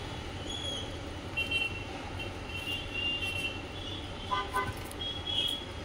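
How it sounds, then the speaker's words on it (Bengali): Road traffic outside rumbles in a steady wash, with short car horn toots cutting through a few times, distant but clear. "গাড়ির এত আওয়াজ এসছে বাইরে থেকে"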